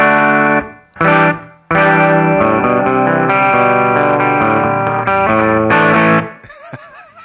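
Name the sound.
2009 Gibson Les Paul Traditional electric guitar through amp, distorted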